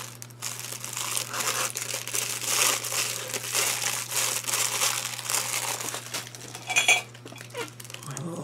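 Close-up crinkling and rustling of a plastic package being handled and pulled open, with irregular bursts and a sharper crackle near the end.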